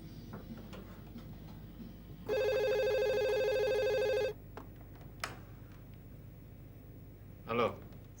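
An old-style telephone bell rings in one loud, steady burst of about two seconds inside a quiet room, followed by a single sharp click and a brief rustle, with no talking.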